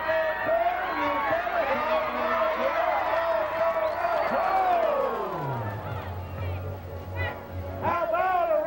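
A crowd at a chuckwagon race photo finish roars and cheers loudly and continuously, with shouts and whoops, while a voice speaks over the noise throughout.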